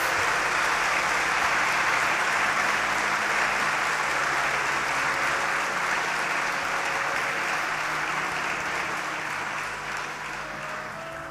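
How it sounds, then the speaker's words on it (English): A concert audience applauds the performers on stage at a Christmas choral concert, a dense, steady wash of clapping that holds for several seconds and then begins to thin and fade slightly toward the end. "What about a round of applause for all the wonderful people here on stage?"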